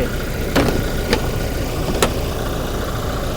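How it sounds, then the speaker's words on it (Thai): A 2021 Toyota Revo four-door lifted pickup engine idles steadily and normally up close, a rough even rumble with a few brief ticking knocks on top. "ให้ดูฟังเสียงเครื่องยนต์ก่อน นะครับเสียงเครื่องยนต์เดินปกตินะ"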